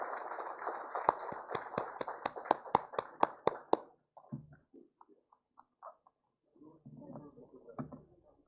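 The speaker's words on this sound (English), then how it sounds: "A big round of applause for our winners" Scattered hands clap in a quick, even rhythm for about four seconds at a sanitation awards ceremony honouring winners, then the clapping stops and only faint, sparse room noise and murmurs remain.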